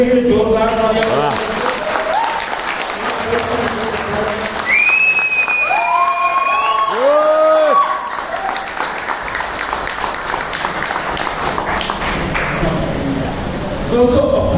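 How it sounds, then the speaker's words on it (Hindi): An audience at a company training event in a Mumbai office claps in sustained, loud applause, with some whistles and voices mixed into the crowd noise. "सलमान सर के लिए जोरदार तालियां।"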